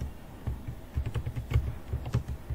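Someone types on a computer keyboard into a browser search, a quick, uneven patter of close key presses with no voices.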